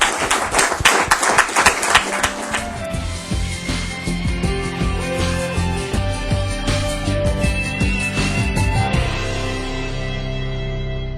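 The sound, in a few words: audience applause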